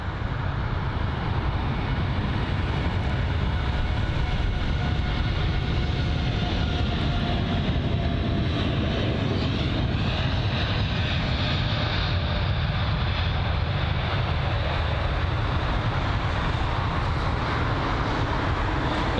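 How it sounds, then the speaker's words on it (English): A Boeing 787 Dreamliner taxis at London Heathrow, a loud, continuous broadband engine rumble that stays steady and close throughout, with no voices. "But the 787 line Dreamliner on the move now."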